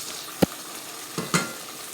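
Chicken with salt, white pepper, ginger, crushed coriander and cumin fries in a pan, heard as a quiet sizzling hiss with a few sharp clinks of a spoon against the pan.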